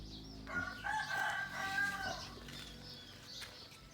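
A rooster crows once in a long, drawn-out call at moderate distance, with chickens clucking faintly around it on a farm, no talk over it.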